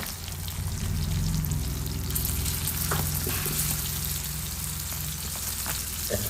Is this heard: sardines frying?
yes